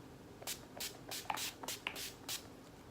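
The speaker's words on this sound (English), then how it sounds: "it feels so nice to spray it on your face" About six short soft hissing bursts of setting spray misted onto a face, evenly spaced and close, quiet with no talking.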